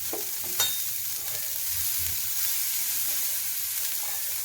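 Finely chopped green chillies fry with a little turmeric in a pan for an omelette, giving a steady close sizzle with a few faint spoon scrapes and no voices.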